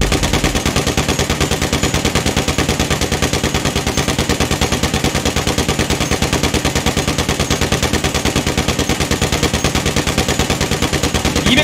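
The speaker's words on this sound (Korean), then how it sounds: "제가 바로 사격을 해볼게요" A Combat MG machine gun in GTA5 fires a long, unbroken burst of rapid, evenly spaced, loud shots that continue without pause, with no talking over it.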